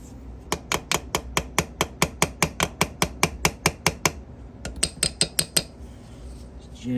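Rapid metallic tapping on a part from a 1973 Yamaha CT3 engine, a long even run of about twenty close, light knocks, then a short pause and a second burst of sharper, ringing taps.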